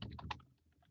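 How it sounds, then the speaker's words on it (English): Quick bursts of typing on a computer keyboard during a live software demo, a cluster of close keystrokes at the start, then lighter scattered taps trailing off. "because typing during demo is always a great idea."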